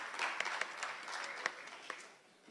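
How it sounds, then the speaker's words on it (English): Applause at the 2017 National Youth Awards ceremony, a faint, thinning patter of clapping from a modest audience with a few sharper individual claps standing out before it fades. "A round of applause for Miss Carla Kiana Henry."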